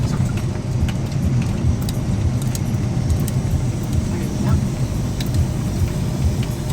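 A car drives over a rough, potholed off-road trail, its engine and rattling body noise loud and continuous, close by, with people talking over it.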